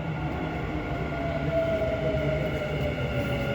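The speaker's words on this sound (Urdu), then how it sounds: "لگتا ہے ایک میٹرو آ گئی ہے." A Dubai Metro train arriving at a station platform, a loud sustained rumble with a rising electric whine from the motors, continuous and close, heard alone without talk.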